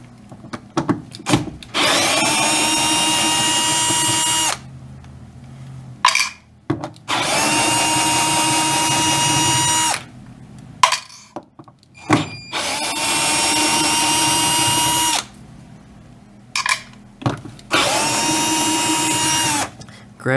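A power drill backs out four screws holding a small silver plate on a Whirlpool Cabrio washer, with four loud, separate high-pitched whirring bursts of about two to three seconds each and clicks and handling noises in the gaps.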